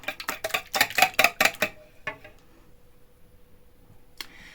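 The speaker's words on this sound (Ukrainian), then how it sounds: "Беремо вінчик і все, як звичайно, взбиваємо трішечки наші яйця" A whisk beats eggs in a bowl, giving a quick run of rhythmic metallic clicks and taps for under two seconds, then a couple of isolated knocks amid near silence.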